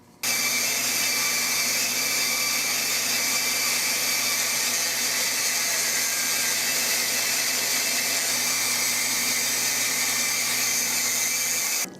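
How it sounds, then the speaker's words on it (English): A disc sander runs continuously at high speed with a steady, whining hum, sanding down a butt pad on a Winchester Model 12 shotgun, starting abruptly and cutting off after about eleven seconds. "I don't like sanding that much of it off. It just wears out your disc."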